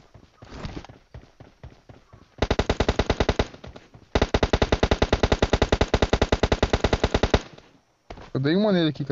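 Video game machine gun firing in rapid bursts, loud and close: a short stutter, then two long sustained strings of shots, followed by a voice speaking.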